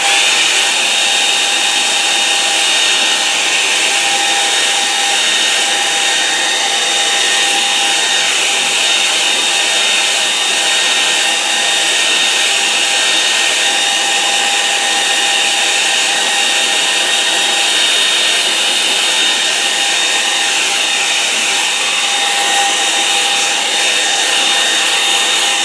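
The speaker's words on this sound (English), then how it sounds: "Now I'll give that a dry with a hairdryer." A hairdryer blows at full power over a wet watercolour painting, a loud, unbroken whooshing drone with a steady whine that never changes over the whole stretch.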